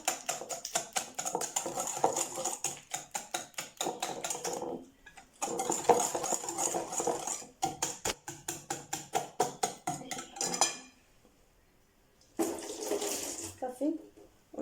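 Chocolate cake batter beaten by hand with sugar, a quick steady rhythm of whisk or spoon strokes against the bowl, close and fairly loud, broken by two short pauses.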